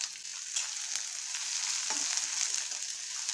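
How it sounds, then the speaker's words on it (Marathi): Chopped spring onion whites and green chillies frying in a pan, a steady bright hiss of oil sizzling, close and even, with a slight swell as the onion goes in. "आता आपण हा कांदा आहे सफेद भाग तो ॲड करूया."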